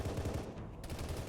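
Gunfire from the video game Halo ODST, rapid repeated shots in a quick burst, fairly faint, with no talk.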